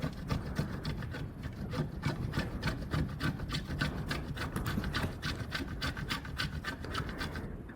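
A bar of soap is grated into fine particles with steady, rhythmic rasping strokes, each scrape close and distinct in a continuous, even pattern.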